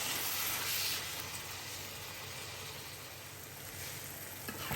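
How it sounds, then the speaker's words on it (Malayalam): Three tomatoes sauté in a pan as the base for a coconut-milk fish curry, giving a faint, steady hissing sizzle with no talking. "ഇനി ഇതിനകത്തോട്ട് ടൊമാറ്റോ, ആ 3 ടൊമാറ്റോ ഇതിനെ നന്നായിട്ടൊന്ന് വഴറ്റി"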